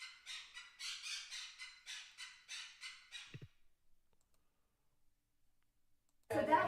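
A pet bird squawks in a quick, regular series of about a dozen short, shrill calls in the background, then falls silent before a brief, louder rustle at the end.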